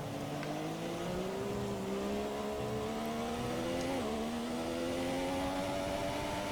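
Formula 1 car in F1 2017 accelerating on a wet track, a steady high-pitched engine whine climbing gradually through the gears with a brief dip near the end, loud and continuous with no talk.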